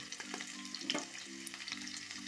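Ginger and garlic sizzle steadily in hot oil in a pan for a banana-blossom cutlet filling, with a near, continuous crackle, a few brief stirring scrapes and a low tonal hum in the background.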